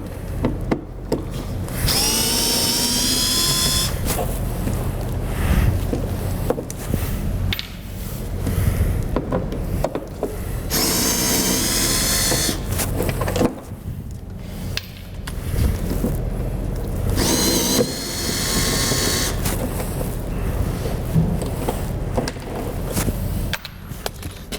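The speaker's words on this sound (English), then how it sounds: "I have an angle drill." A right-angle drill whirs in several short bursts removing screws from a Corvette C7 fender, alternating with clattering and scraping of metal and wood in between.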